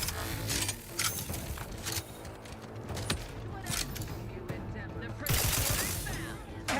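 Shotgun fire in The Outer Worlds 2 rings out in a dense, chaotic firefight, with repeated loud blasts and clatter layered over game effects and a busy combat mix.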